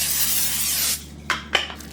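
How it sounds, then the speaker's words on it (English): Cooking spray hisses steadily for about a second into a 13 by 9 inch casserole dish, close and loud. Two short knocks from the dish or can follow. "I'm gonna give that a quick spray with my cooking spray"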